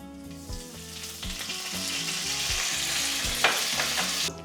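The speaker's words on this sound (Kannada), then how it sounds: "ಅರ್ಧ ಚಮಚ ಸಾಸಿವೆ ಸ್ವಲ್ಪ ಸಾಸಿವೆ ಚಟಪಟ ಅಲ್ಲಿ" Mustard seeds, cumin and curry leaves sputter in hot oil for a south Indian drumstick-leaf tamarind curry, a steady close sizzle with sharp crackling pops throughout, no voices.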